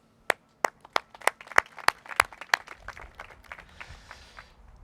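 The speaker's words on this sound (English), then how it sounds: "a round of applause for you and your team" Scattered outdoor clapping at a park dedication for Mr. Underhill and his team: a dozen or so sharp, separate claps that build into light, uneven applause before fading.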